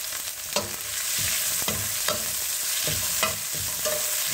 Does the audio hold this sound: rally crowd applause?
no